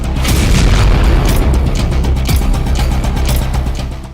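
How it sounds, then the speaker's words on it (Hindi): A heavy, sustained rumbling boom from a drone attack in Toropets, Russia, loud and continuous for several seconds with crackling bursts on top, like a large distant explosion. "आप इस जबरदस्त धमाके का अंदाजा ऐसे लगा सकते हैं"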